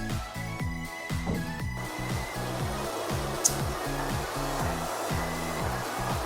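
A high velocity dryer used for dog grooming blows a steady, loud airflow roar through the whole stretch, with no speech and a brief sharp click partway through.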